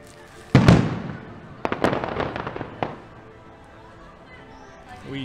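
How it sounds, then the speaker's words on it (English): Fireworks at Epcot pop and crackle at a distance, one sharp bang followed by a cluster of rapid bursts, with faint crowd murmur underneath. "You can see the fireworks from here."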